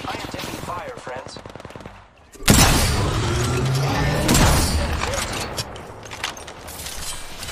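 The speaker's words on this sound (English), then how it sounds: "I am taking fire, friends." Rapid machine-gun fire in Apex Legends, a Rampage light machine gun: sustained bursts of close, loud shots, with a brief pause near two seconds and then a heavier barrage, and a voice talking over parts of it.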